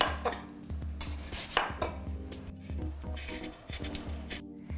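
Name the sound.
chopping daikon radish with a knife for kimchi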